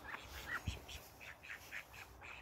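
Ducks on a farm give a run of rapid, fairly faint quacks in an even repeating rhythm, with one low thump partway through.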